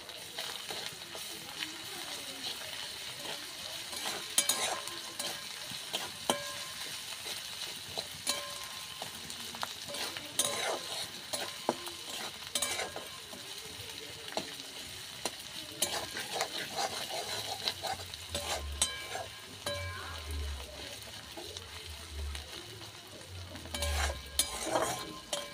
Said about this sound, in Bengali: আদা রসুন বাটাটা একটু ভেজে নেব।